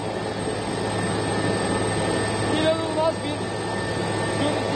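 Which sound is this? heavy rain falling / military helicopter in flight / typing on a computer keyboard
military helicopter in flight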